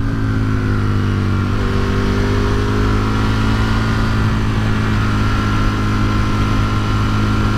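An Aprilia RSV Mille motorcycle, about twenty years old, runs with a loud, steady engine drone full of tonal harmonics that shift slightly early on, then hold an even pitch with no voices.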